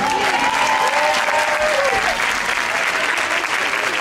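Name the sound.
applause for Ángel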